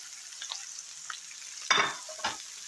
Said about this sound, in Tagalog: Isa muna natin yung ating bawang at sibuyas.